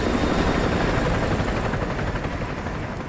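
Helicopter flying close in Call of Duty Modern Warfare 2 Remastered, on the oil rig level, with a loud, steady rotor roar and engine drone filling the whole stretch and no talk over it.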